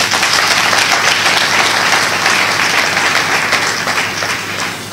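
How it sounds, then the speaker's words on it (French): Loud, dense audience applause at an evening eloquence event in a hotel venue, a continuous wash of many hands clapping that holds steady and tapers slightly at the end. "Je vous prie de l'applaudir."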